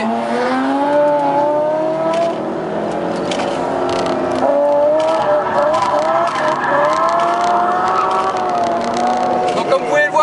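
BMW race car on a track session, engine note rising and shifting steadily through a pass with harmonic whine, loud and close, mixed with voices talking.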